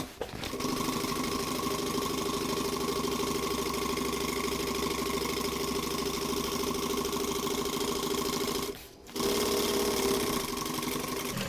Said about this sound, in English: Sew this bottom length a 3/8 inch seam allowance.